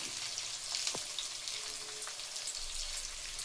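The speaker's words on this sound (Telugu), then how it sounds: "ఈ ముక్కలు నూనెలో బాగా ఫ్రై కావాలి" Bitter gourd pieces frying in oil, a soft, steady crackling sizzle heard close and alone, with a few faint utensil taps.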